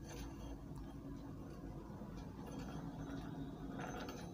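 A sewing machine's needle rod turns with a steady low mechanical whir and faint ticking of gears, running continuously at moderate distance.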